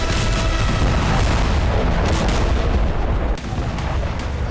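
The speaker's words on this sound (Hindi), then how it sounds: "रूस के वोल्गोग्राद में मोरिनोव्का एयरबेस पर कई धमाके हुए।" Multiple explosions at the Marinovka airbase in Volgograd, Russia, where fuel trucks caught fire, sound as loud, continuous rumbling booms and crackling blasts, with no pause over several seconds.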